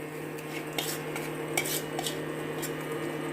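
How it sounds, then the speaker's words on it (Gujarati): A metal spoon clinks and scrapes against a pan as potatoes are stirred into spiced oil, with a quick run of light clatters over a low steady background hum. "હવે એની અંદર આપણે આલુ હતા એની અંદર આપણે આને નાખી દઈશું."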